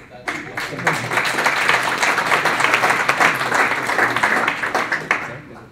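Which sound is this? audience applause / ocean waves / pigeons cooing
audience applause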